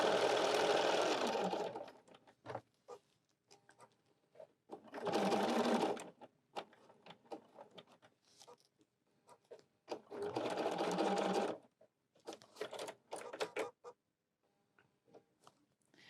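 A sewing machine stitching a fabric folding wallet with regular top thread and clear thread runs in three loud buzzing bursts of one to two seconds each, separated by quieter clicks and handling noises.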